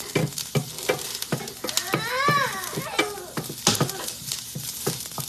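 Canned tuna from the Philippines fries in a pan with a steady sizzle. Repeated sharp clinks of a utensil on the pan cut through it, and a voice talks over the cooking.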